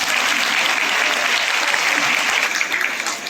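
A crowd at a political gathering in India claps together in a loud, even burst of applause that carries on for several seconds before easing off.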